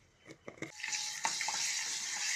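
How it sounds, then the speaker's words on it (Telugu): Tempering for gongura chutney sizzles in hot oil with fenugreek seeds and a pinch of asafoetida, a few sharp pops at first, then a steady, close frying hiss. "తాలింపు వేగింది."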